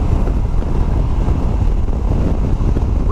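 Steady, heavy wind buffeting a rider on a motorcycle at highway speed, a constant low roar and rumble filling the whole stretch without a break or voice.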